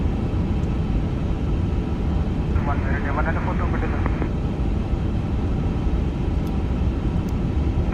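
A Vietnam Airlines Airbus A350 in Flight Simulator takes off from runway 25 left at Ho Chi Minh City. A loud, steady engine roar fills the whole stretch, and a brief radio-like voice cuts in midway.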